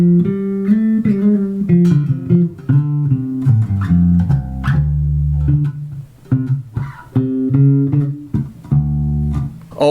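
A bass guitar plays a complete bass solo, with busy, funky runs of plucked notes, slides and octave jumps, close and alone for about ten seconds.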